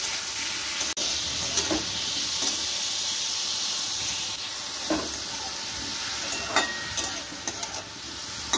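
Cauliflower and carrot are stir-fried in a wok with a steady close sizzle and hiss, broken by repeated scraping strokes of a spatula that grow more frequent toward the end; no voices.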